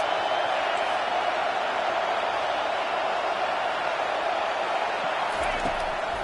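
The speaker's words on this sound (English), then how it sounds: "this crowd is tearing the lid off this place" A college football stadium crowd in a video game roars in a steady, dense wash of cheering, loud and unbroken from start to finish.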